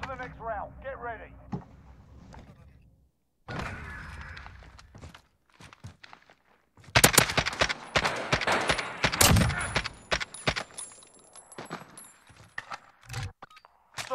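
Rapid bursts of AK-47 assault rifle fire in a Search and Destroy round of a Call of Duty video game, crackling in dense volleys through the second half, with a voice talking earlier and short clicks and rattles between shots.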